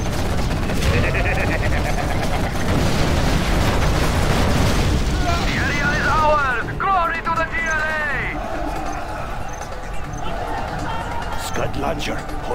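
Scud missile strikes in the real-time strategy game Command & Conquer Generals, with loud dense rumbling explosions and crackling blasts packed together, followed by chirping unit effects and softer continuing booms under game voice lines.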